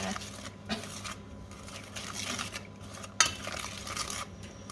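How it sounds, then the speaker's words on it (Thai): Ingredients for tom kha gai are stir-fried in a pan over low heat. A utensil scrapes and knocks against the pan in irregular strokes, with one sharp metallic clink, over a faint background sizzle and no voices. "ผัดให้หอมใช้ไฟอ่อนนะคะ"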